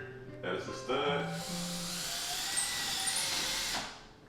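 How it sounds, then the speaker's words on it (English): A power drill pre-drills a hole into a wall stud for mounting a custom headboard, a steady high whine running close and loud for about three seconds after some brief voice sounds at the start. "I'm gonna drill here just to be sure that it's a stud"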